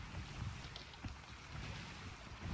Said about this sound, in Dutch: wat is er met die wind aan de hand, man?